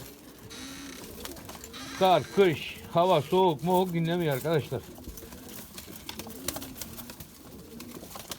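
White pigeons in a coop coo close by in a run of repeated throaty calls, with a person talking between and after the cooing.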